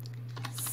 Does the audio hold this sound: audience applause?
no